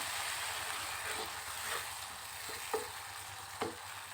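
About a cup of water goes into a hot pan of egg curry masala, producing a steady close sizzling hiss with a couple of soft knocks from a spoon or pan and no voices.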